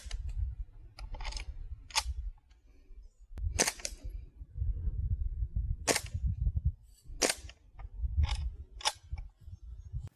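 Sharp shots from a Springfield Armory M1 Carbine BB gun, fired at targets set about 40 feet away, snap out roughly ten times at an irregular pace over a steady low rumble of background noise.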